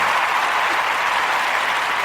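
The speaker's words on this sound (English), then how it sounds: "That was a little bit too long of an applause." A canned applause sound effect played during a sports podcast, a loud, dense, uninterrupted burst of crowd clapping filling the whole moment evenly, with no voices over it.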